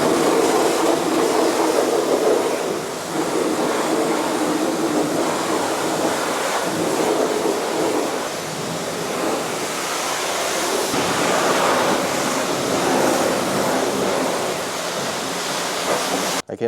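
Pressurized water sprays across a truck during a hand wash, a loud, continuous hissing rush with slight swells as the stream moves over the surface, ending with an abrupt clatter.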